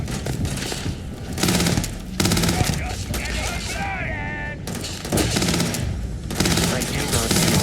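Grendel rifle fire in the space game Starfield comes in loud repeated automatic bursts separated by short gaps, with a voice and tonal effects in a quieter stretch midway.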